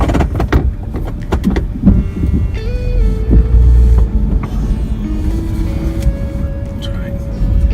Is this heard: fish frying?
no